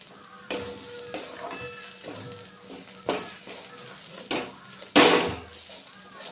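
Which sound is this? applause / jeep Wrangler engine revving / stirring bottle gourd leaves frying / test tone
stirring bottle gourd leaves frying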